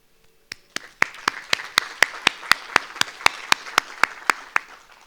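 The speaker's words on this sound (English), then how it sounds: "Please give them huge applause." Rhythmic applause at the close of a forum, a crowd clapping together in a steady, evenly spaced beat that starts sparse and settles into regular claps, fairly close and loud.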